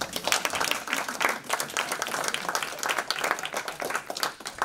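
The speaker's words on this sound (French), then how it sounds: "je m'en vais vous demander encore à nouveau d'applaudir notre" An audience at a formal gathering with a talk on Abd El Khader gives a dense, steady round of clapping that holds at an even level for several seconds, with no voices over it.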